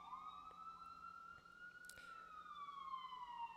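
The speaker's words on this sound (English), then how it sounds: "Sorry about the sirens, guys." An emergency siren wails outside, a single sweeping tone that rises slowly then falls, heard at a distance and fairly faint over low background noise with no talk.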